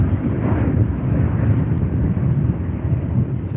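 Strong wind buffets the microphone at an outdoor planespotting spot, a steady, loud roaring rush with no voices over it.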